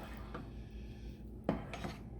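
A utensil scraping and knocking inside a cooking pot of pork green chili, soft rubbing strokes with a couple of sharper clinks near the end, quiet and close with no voices.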